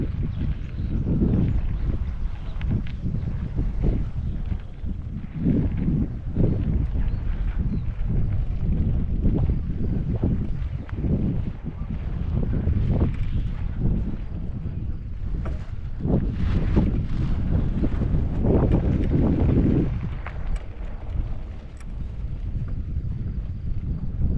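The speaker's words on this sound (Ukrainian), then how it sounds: "Кстати, вітер такий." Steady wind buffets the microphone throughout, a continuous loud rumbling roar with gusty surges and no voices.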